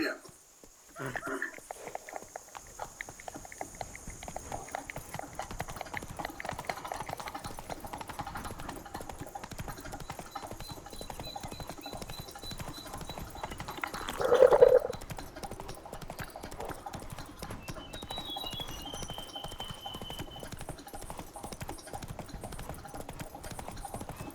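Horse hooves clip-clop steadily at a gallop across a game world in The Witcher 3: Wild Hunt, a continuous rhythmic beat under faint ambient music, with a brief louder burst midway.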